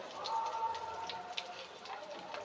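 Egg lollipops fry in hot oil until golden red, giving a steady, soft crackling sizzle with scattered pops throughout.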